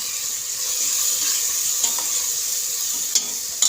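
Dal with drumsticks and red chili powder sizzles in a pan, a steady close frying hiss with a few soft scrapes of a spoon stirring.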